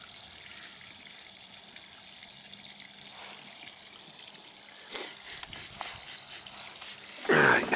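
Steady water rushing and hissing through hydronic heating boiler pipes being drained of glycol antifreeze, with a few gurgling surges near the end and a louder burst at the close.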